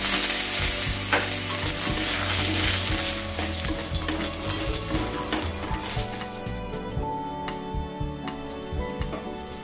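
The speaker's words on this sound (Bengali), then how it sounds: "আমি ডালের বড়িগুলো ভেজে নেব।" Lentil dumplings (dal bori) frying in mustard oil, a loud, dense sizzle with stirring scrapes, easing slightly toward the end as the crackle thins.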